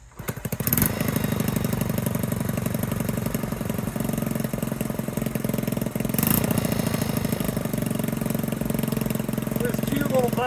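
A Honda C70 motorcycle engine idles with a steady, close, low putter and a fast even firing rhythm throughout, while people talk over it.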